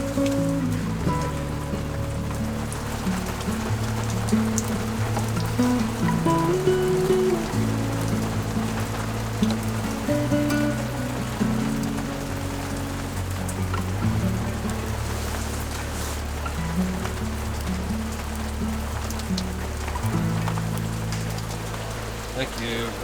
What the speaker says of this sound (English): It's cold and rainy and damp.